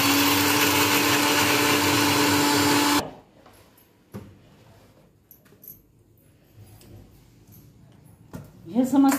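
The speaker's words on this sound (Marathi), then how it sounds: "याला मिक्सर मध्ये फिरवून घ्यायचं. छान बारीक फिरवायचं." A mixer grinder runs loud and steady on biscuit pieces for about three seconds, then cuts off abruptly, leaving quiet handling clicks and a brief rising whir near the end.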